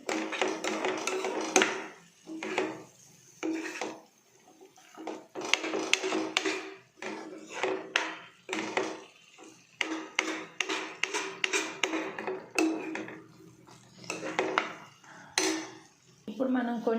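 A spoon clinks and taps against a bowl while aloo samosa chaat is mixed with cumin powder and spices, irregular bursts of metallic scraping and knocking with short pauses between them, alongside a person talking.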